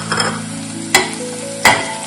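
Chopped chillies and onions fry in a pan over a medium flame while cooking Andhra-style gongura chicken, giving a steady sizzle close by. A spoon scrapes the pan in two sharp strokes that stand out above the sizzle.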